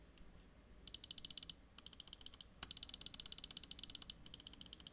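A magnesium alloy gaming mouse with Kailh GM8 switches clicks in rapid rattling bursts, four quick runs of sharp, bright clicks separated by brief pauses, close and crisp against a quiet background.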